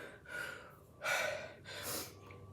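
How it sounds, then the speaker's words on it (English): Heavy, fairly quiet breathing after a two-pump exercise challenge: three breathy gasps, the second and third strongest, close to the microphone with no talking. "Sorry for the heavy breathing."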